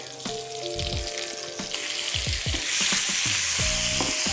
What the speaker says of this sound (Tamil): தக்காளியை போட்டு நல்லா வதக்கிக்கிட்டு இருக்கிறோம்